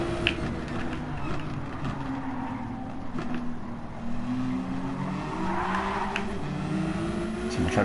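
Hypercar tyres skidding under oversteer during a Gran Turismo 7 league race, with a steady engine roar and wavering squeals sweeping up and down over the continuous drone of nearby cars.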